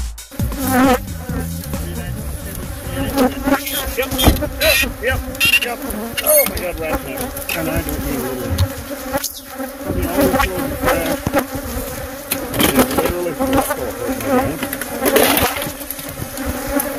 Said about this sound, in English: Holy shit, killer bee next to me.